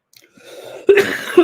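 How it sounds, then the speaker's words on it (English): A single close cough from a live sports betting stream host, a sudden harsh burst after a soft breath, followed by a second brief throat sound. "I'll just cough on the air."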